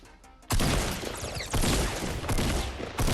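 Shotgun fire in a video game: a loud blast erupts after a quiet start, followed by sustained roaring noise and another sharp blast near the end.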